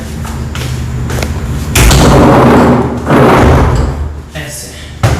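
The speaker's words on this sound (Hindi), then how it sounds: "दरवाज़ा बंद कर देते हैं" A door being shut in a home during decorating work: loud thuds and a slam stand out amid steady room noise, with a person talking nearby.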